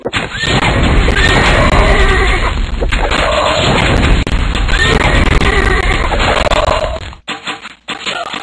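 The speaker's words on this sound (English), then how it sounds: "Ooh, horse." A horse in the video game Feudalism 2 neighs loudly, whinnying calls repeating over a steady, dense background of game sound before cutting out near the end.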